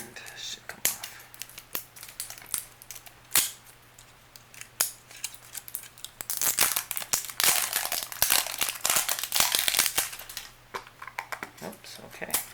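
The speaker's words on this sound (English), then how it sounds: "get a knife under there, and then just cut away from the camera and myself" A knife cuts and pries at plastic packaging on a miniature figure, a dense run of close clicks, snaps and crackles that builds to a busy stretch in the second half, with a person talking intermittently.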